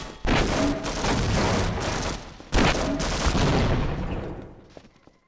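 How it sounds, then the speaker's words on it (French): Loud, dense gunfire and grenade blasts in the Half-Life Source video game, two heavy bursts of rapid shots and booms in quick succession, then fading toward the end. "Ah, ils envoient des grenades et tout."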